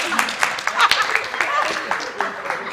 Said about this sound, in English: Why are they clapping for this man?